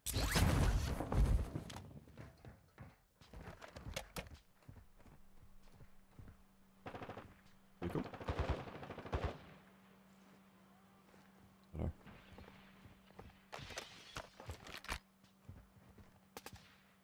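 Sniper rifle shots in a video game crack out as several sharp, loud reports spaced irregularly across the scene, with quieter gameplay sounds and a steady low hum between them.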